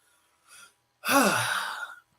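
A person yawns aloud at close range during a prayer session, with a brief breathy intake followed by a long voiced exhale that rises and falls in pitch before stopping.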